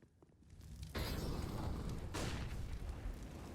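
Grenades blow up in a Counter-Strike match on the Nuke map, two heavy booms rolling into a sustained, dense rumble of blasts and gunfire.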